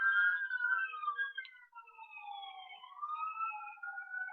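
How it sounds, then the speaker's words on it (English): Several emergency sirens from a fire station about a block away wail and overlap continuously, their pitch sweeping up and down, moderately loud and slightly distant outdoors with no talking. "Sorry about all the sirens."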